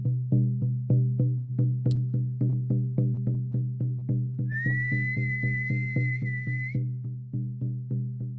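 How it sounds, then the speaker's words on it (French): A steady, high whistle blast from the lead dancer signals the end of a dance, sounding for about two seconds over a pounding, regular ceremonial drumbeat that continues throughout. "j'entends déjà le chef danseur qui siffle la fin de la danse"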